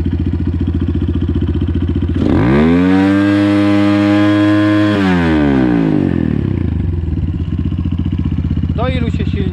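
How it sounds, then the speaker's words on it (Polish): A 250cc Xmotos XB88 enduro motorcycle engine idles with a steady chug, then revs sharply to a high whining scream, holds for a few seconds and drops back to a loud, close idle. "Tu mamy obroty silnika."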